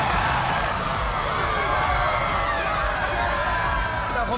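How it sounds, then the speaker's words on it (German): Large arena crowd cheering and shouting at an animated Beyblade battle stadium, a steady, dense roar of voices held loud throughout. "Könnt ihr nicht lauter für mich jubeln?"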